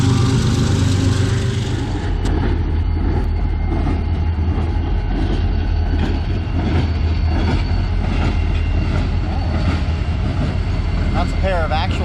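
A freight train led by a pair of SD40-2 locomotives passes close by, a loud, continuous rumble of engines and rolling wagons with wheel clatter and a brief squeal near the end, a voice talking over it.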